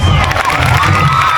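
Schoolchildren at a Save Earth No War event at Z.P. School, Madanapalle, cheer and shout together in a loud, dense, continuous roar with no pauses.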